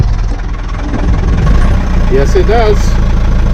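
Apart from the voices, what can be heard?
sailboat engine starting and idling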